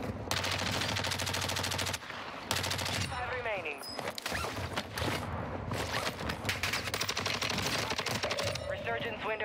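Rapid automatic gunfire in Call of Duty Warzone on Ashika Island, with a buffed STB 556 rifle in play: dense bursts of shots, loud and close, with brief pauses between volleys and some game noise in between.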